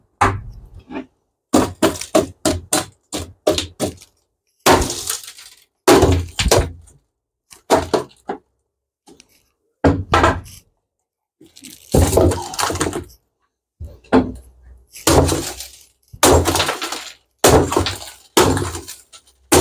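Window glass covered with anti-shatter security film is struck again and again, giving sharp cracking impacts in irregular bursts with brief pauses between, loud and close throughout.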